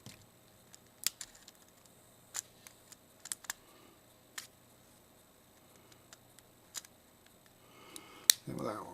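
A clipper snips the plastic tabs off a Sony S40 camera. Several faint, sharp clicks are spaced irregularly against a quiet room background.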